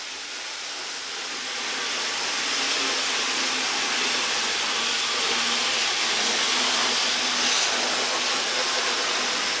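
Several 9-volt model trains run steadily in a slow-speed competition, giving a continuous, even whirring hiss with a faint low motor hum that swells slightly after the start and holds at a constant level throughout.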